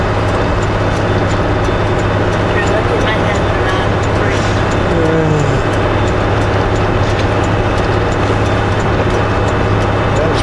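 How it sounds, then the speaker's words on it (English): Rain falls on a moving truck, a steady dense hiss blended with constant low engine and road rumble that stays loud and unchanging throughout, with faint talk underneath. "It's raining pretty good."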